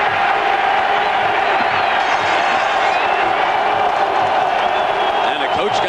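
At a 1988 college football game between West Virginia and Penn State, a big stadium crowd roars in a steady, dense wash of cheering that does not let up, with a broadcast voice speaking over it.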